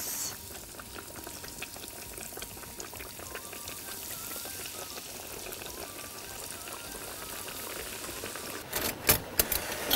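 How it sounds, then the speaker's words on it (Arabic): Escalope frying gently in warm oil, a steady soft crackle and hiss that runs close and even throughout, with a few louder sharp pops and clatters near the end. "اجيب الاسكالوب كده احطه في الزيت الدافي خلاص، واسيبه يستوي براحته خالص"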